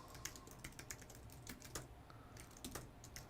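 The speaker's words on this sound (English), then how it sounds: "Typing is the leading cause of typos." Quiet, steady clatter of keys being typed on a computer keyboard, irregular bursts of clicks close by, with no talking.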